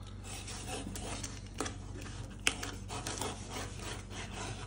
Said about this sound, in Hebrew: שלב הבא, לחתוך פה טיפה, לא חובה לחתוך, אבל הרבה פעמים יש ספרים שצריך לחתוך